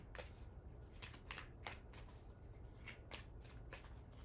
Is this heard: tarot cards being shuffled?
yes